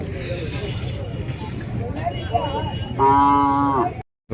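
An eight-month-old female calf at the Orappam cattle market in Krishnagiri district lets out one loud, close moo near the end, preceded by market chatter and bustle.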